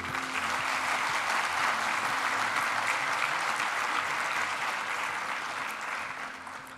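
Sustained applause at a university graduation ceremony for postgraduate and double-program graduates, a dense, steady wash of clapping from a large audience that holds for several seconds, then gradually thins and fades toward the end.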